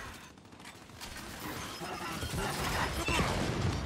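A sniper rifle firing in the Gears 5 video game, one sharp crack standing out in a dense, noisy mix of gunfire and crashing game effects, with a voice speaking underneath.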